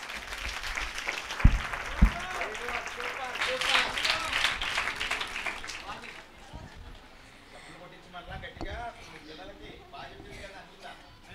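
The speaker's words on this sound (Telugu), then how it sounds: "ఒకసారి మళ్ళీ చప్పట్లు కొడదాం." Audience applause in a church congregation, dense clapping with scattered voices that thins out after six seconds into quieter murmuring and sparse claps.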